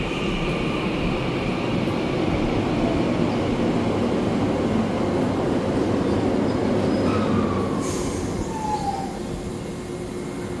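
A Taiwan Railway EMU900 ten-car commuter train in silver and green runs past steadily, a continuous loud rumble of wheels and motors, with a brief horn-like tone near the end.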